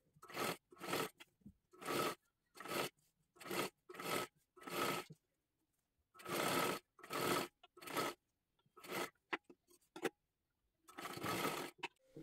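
Sewing machine stitching a shoulder seam on fabric in short repeated bursts, each run lasting about half a second to a second with brief pauses between, close and fairly loud, with no voices.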